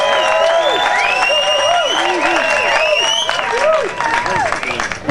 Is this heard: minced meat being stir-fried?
no